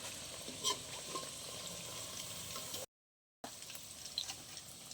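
Langcha sweets fry in hot oil and are flipped over, a faint steady bubbling sizzle with a couple of soft clinks from handling, cut by a brief silent gap.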